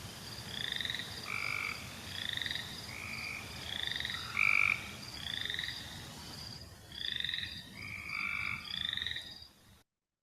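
A recorded tree frog call plays back as a series of short, repeated trilling bursts in a regular rhythm, fairly faint and clear against a low background hiss.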